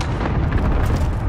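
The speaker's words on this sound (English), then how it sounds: "Allied cluster strike inbound." Dense, continuous rumbling explosions from a cluster strike in a battle royale shooter match, a sustained barrage of overlapping low booms filling the whole moment at steady loudness.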